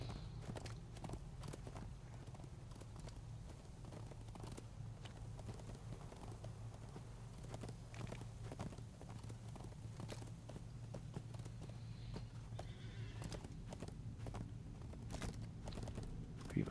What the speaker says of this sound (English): Alright, turn, you silly steed.